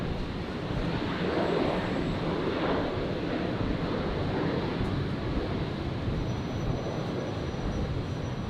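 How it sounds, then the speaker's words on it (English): Qantas flight 549 airliner rolling down the runway for takeoff at Brisbane International Airport, a steady broadband engine roar that holds level throughout with a windy rumble, no voices. "Qantas 549 rolling now."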